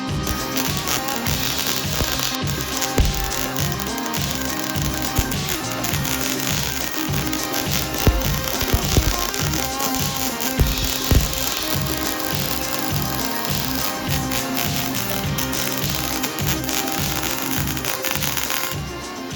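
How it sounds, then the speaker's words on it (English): A welder joins steel cross arms for a portable archery bow stand, making a continuous, crackling, buzzing arc sound that stays loud and close throughout with slight rhythmic fluctuations. "But it's time to fire up the welder."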